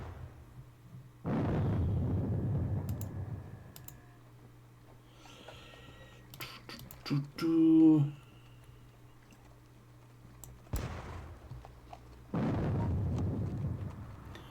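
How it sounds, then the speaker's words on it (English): Indirect artillery fire in a Battle of Bautzen war game, with two long, rumbling booms several seconds apart and a brief burst of interface beeps between them. "Firing some indirect artillery, which for the most part is not going to do much"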